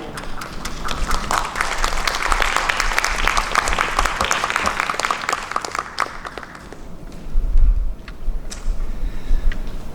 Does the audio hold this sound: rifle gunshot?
no